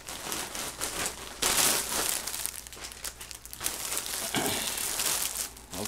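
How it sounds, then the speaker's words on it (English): A cardboard package is ripped open by hand up close, giving a run of loud crinkling, tearing and crunching bursts with brief pauses between pulls. "let's go ahead and just rip this bad boy open"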